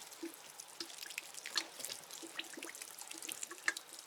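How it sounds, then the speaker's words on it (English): Potted canna lilies and dahlias being lightly watered, with soft scattered drips and trickles landing on soil and leaves, faint and close. "I'm just going to lightly water them"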